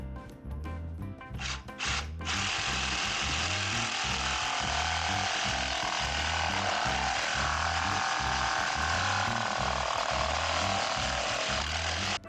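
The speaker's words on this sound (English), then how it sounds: "it was time to get out the big guns. My Ryobi jigsaw" A Ryobi jigsaw saws through a 3D printed part for a Ford GT40 Mk1 model build, a loud, steady buzzing cut with a fast reciprocating chatter that runs almost unbroken after a few short starts.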